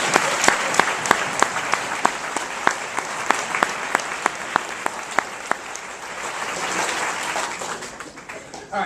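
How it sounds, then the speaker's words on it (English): A crowd at a tolerance fair applauds volunteers and sponsors. The clapping is steady and sustained, and some sharper individual claps stand out over the continuous wash. "Can we please take a second to give them all a round of applause?"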